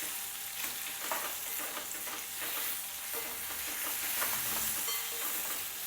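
Guava chutney ingredients sautéing in tempering oil in a pan, a steady broadband sizzle with scattered scraping stir sounds throughout, close and fairly loud.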